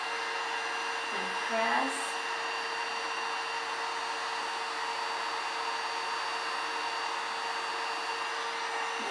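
A heat gun blows a steady, loud stream of hot air onto a tumbler during vinyl application, an unbroken whooshing hiss that runs throughout while a voice speaks briefly.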